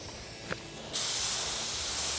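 A spray gun lays black paint onto Ford chassis wishbones for a 1932 Ford rebuild. A brief puff comes first, then a loud, steady hiss of spraying starts and carries on close by.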